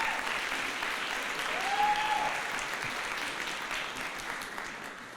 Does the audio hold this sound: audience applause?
yes